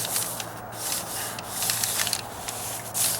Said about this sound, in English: I can just dab it on there before I run my putty knife along there again